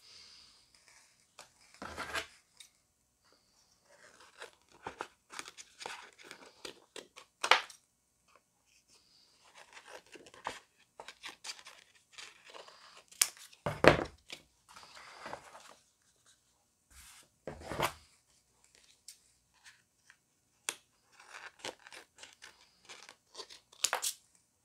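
Scissors cut paper stencils for monoprinting in short, crisp snips and crinkles, spaced unevenly with quiet pauses, close and fairly faint, with no talking.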